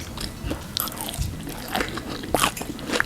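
Crunchy bites and chewing of cooked shrimp from a Thai-style shrimp recipe, several crisp bites with squishy mastication close to the mic over about three seconds, no talking.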